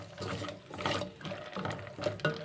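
Water pours into a pot of sautéed pasta while sopas is being cooked, a rushing, splashing flow in uneven surges close by.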